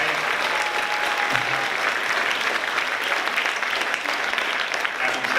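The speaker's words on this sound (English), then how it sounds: "You should all give yourselves a round of applause." An audience at the 9th Annual Indie Series Awards ceremony gives itself a round of applause, with loud, continuous clapping that stays dense and even from start to finish and no voices on top.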